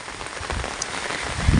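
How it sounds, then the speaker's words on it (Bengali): Dense, steady hiss of heavy rain pouring down nearby, a continuous wash of noise with no voices. "আবার এত বৃষ্টি পড়ছে"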